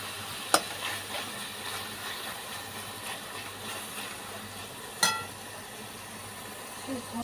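Chopped banana flower (mocha) frying in oil in a Kolkata-style home kitchen: a steady low sizzle, stirred with a spatula that gives two sharp clinks against the pan, one early and one midway.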